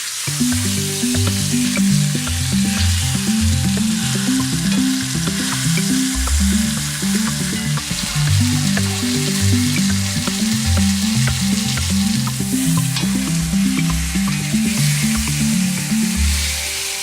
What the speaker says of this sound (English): you let this cook until this balsamic vinegar reduces almost 1/3 less in volume